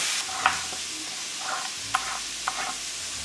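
Meat sears in a hot pan with a steady, loud hiss and crackle throughout, broken by a few faint clicks and scrapes of utensils.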